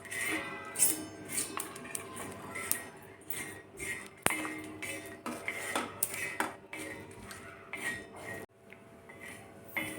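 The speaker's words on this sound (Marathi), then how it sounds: "आता आपल्याला मिरच्याही छान भाजून घ्यायच्या आहेत" Green chillies dry-roasted in a pan without oil, with quiet, irregular metallic clinks and scrapes of a utensil against the pan and a faint steady background, close by.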